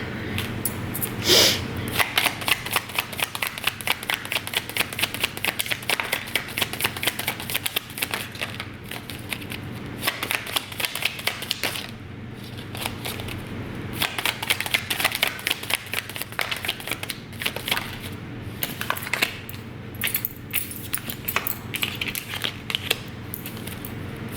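Tarot cards riffled and shuffled for a collective reading, a dense run of quick papery flicks and crinkles close by, steady throughout with a sharper burst near the start and no talking.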